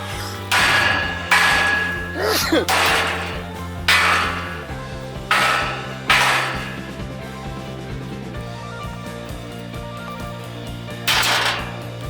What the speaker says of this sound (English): so we're just gonna whack them off with a hammer